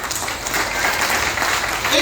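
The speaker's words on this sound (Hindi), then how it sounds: "तो आप सबके लिए जोरदार तालियां।" An audience at a health talk claps loudly and continuously, a dense crowd of hands at steady volume, with a voice faintly present underneath.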